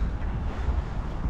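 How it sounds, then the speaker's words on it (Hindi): Strong wind gusting straight onto the microphone on a street in Almaty in January, a loud, steady low roar and buffeting rumble filling the whole moment with no voices. "और अचानक से बहुत हवा चलनी शुरू हो गई है।"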